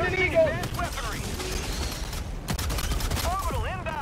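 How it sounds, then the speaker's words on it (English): Rapid gunfire from the video game Helldivers 2 rattles in dense bursts through a firefight, mixed with game effects while players talk over it. "I love wasting a whole mag on a stalker and not killing him"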